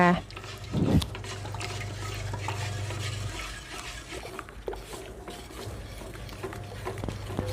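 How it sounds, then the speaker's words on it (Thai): Taro flour batter is stirred quickly and constantly in a pot, making wet sloshing and scraping sounds under someone talking throughout. "คราวนี้เราต้องคน คนเร็วคนตลอดเวลาไม่อย่างนั้นแป้งจะจับ เป็นก้อน"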